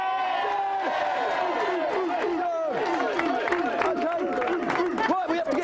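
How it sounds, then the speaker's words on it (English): A studio audience at a 1993 Christmas special of a TV video-game show cheers and yells loudly and continuously, with many excited voices overlapping in a lively, close-up roar. "let's have a big cheer for the Dick Whittington team from Croydon"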